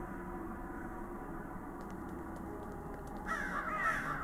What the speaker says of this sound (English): Crows are not what they seem to be.